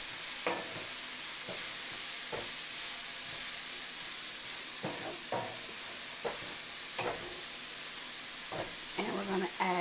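Sausage, peppers and onions seasoned with salt and pepper sizzle in a pan while a spoon scrapes and stirs in repeated strokes, with a voice talking now and then.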